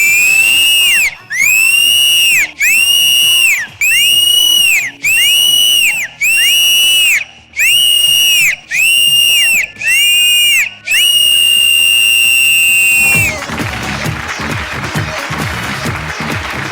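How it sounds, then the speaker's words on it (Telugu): A studio audience at a Telugu televised dance show whistles together in a long run of loud, sharp blasts, about ten short bursts and then one sustained whistle, before the sound breaks into cheering and crowd noise. "అందరం విజిల్ వేద్దాం."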